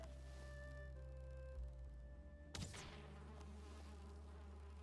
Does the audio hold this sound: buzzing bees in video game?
yes